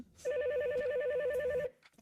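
A telephone rings in a continuous warbling trill for about a second and a half, loud and close, then cuts off abruptly, with no talking over it.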